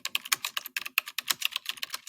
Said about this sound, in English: You can get a keyboard typing, put that in there if it matches with whatever not stock media